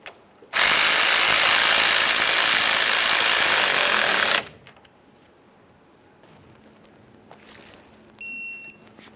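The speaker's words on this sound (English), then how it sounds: "We're going to tighten our clamp here." A power tool tightens a tie rod sleeve clamp on a Dodge Ram 1500 in a loud, continuous burst of about four seconds, then cuts off to near quiet, with faint clinks and a short electronic beep afterward.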